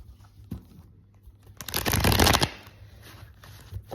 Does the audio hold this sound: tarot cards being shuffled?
yes